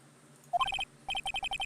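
The Steel Samurai phone ringtone from the video game Ace Attorney Trilogy plays a rapid series of bright electronic beeping tones in quick repeating bursts, clear and close, following a short rising chirp.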